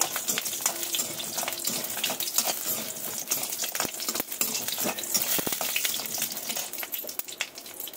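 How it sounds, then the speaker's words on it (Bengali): Steady, crackling sizzle of small lentil dumplings frying in hot mustard oil, with occasional pops and a faint stirring scrape throughout. "সর্ষের তেল দিয়ে দিয়ে পরিমাণ মতন বড়িগুলো আগে ভেজে নেব।"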